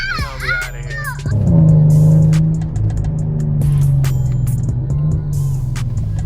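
A Chrysler 200S AWD engine revs up and pulls away, a steady loud drone rising in pitch, with a voice and some clatter at the start.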